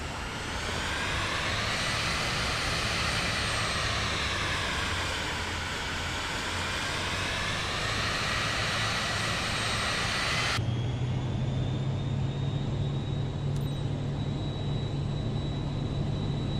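A Vision Jet taxiing in Microsoft Flight Simulator 2024 gives a steady, loud jet engine whine with a rising and falling tonal hum, which shifts abruptly to a thinner, higher hum partway through and keeps droning without a break.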